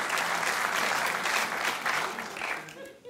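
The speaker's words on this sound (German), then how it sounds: "Ich warte, bis der Applaus sich gelegt hat" A lecture audience applauds in a full, steady burst of clapping that tapers off near the end.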